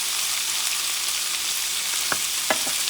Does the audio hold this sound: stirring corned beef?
yes